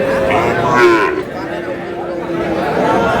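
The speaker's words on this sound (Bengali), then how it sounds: "ষাঁড় বাচ্চা শাহিওয়ালের" A young Sahiwal bull calf, about six months old, moos loudly nearby in a long drawn-out call at a cattle market, with a crowd chattering in the background.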